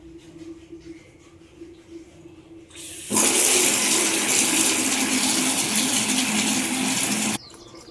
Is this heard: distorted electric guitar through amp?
no